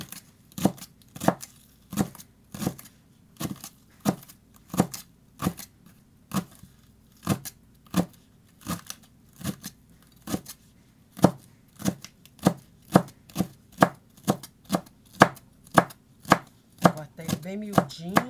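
A knife chopping leeks finely on a cutting board, with a steady series of crisp, close knocks that grow quicker and denser toward the end, with no talk over them.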